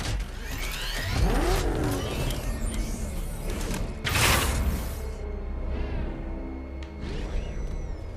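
The Batmobile drives in Batman: Arkham Knight, its engine revving with mechanical whirs, creaks and sweeping whooshes as it accelerates and lurches, loud and busy throughout.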